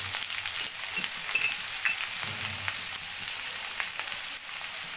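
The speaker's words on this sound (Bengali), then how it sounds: "বেগুনগুলোকেও এই একটু হালকা মজা যাতে হয় সেই মতো করে ভাজতে হবে" Salted eggplant pieces frying in a pan for a shutki fish curry with Malabar spinach, a continuous close sizzle with light spatula stirring scrapes throughout, no talking.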